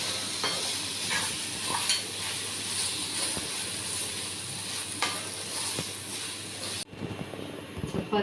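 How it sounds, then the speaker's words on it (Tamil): Tomato thokku with curry leaves and coriander being stirred in a pan, giving a steady close sizzle and hiss with soft scraping strokes, then a sudden drop to quieter sizzling near the end. "கொஞ்சம் கருவேப்பிலையும் கொஞ்சம் கொத்தமல்லி தழையும் போட்டு நல்லா கிளறி இறக்கிட வேண்டியது தான்"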